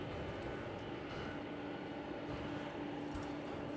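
A jet aircraft at DFW Airport, a Cathay Pacific cargo flight in from Anchorage, gives a steady, distant broadband engine roar with a faint tonal whine, continuous and fairly quiet throughout.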